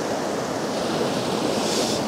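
Flowing water near Pahalgam, Kashmir rushes as a continuous broad hiss, loud and even, with no other sounds standing out.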